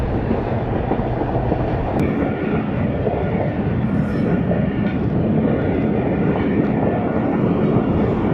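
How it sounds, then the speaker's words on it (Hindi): Khushhal Khan Khattak Express, running about three hours late, rolls into Dera Ghazi Khan railway station with a steady, loud rumble of wheels and carriages that stays constant and close for several seconds. "10:15 बजे पहुंच रही है देरा गाजी खान रेलवे स्टेशन पर 20 डाउन खुशहाल खान खट्टक एक्सप्रेस"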